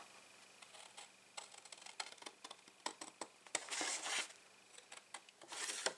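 Scissors snip through cardboard along a score line for a reinforced box, a quiet, close series of irregular crisp cuts and rustles.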